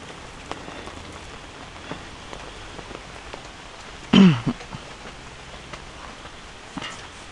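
Light, steady rain patters softly on a surface, with a brief cough-like sound partway through.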